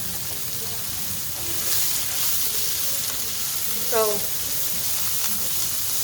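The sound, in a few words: tomatoes and onions sauteing in a pan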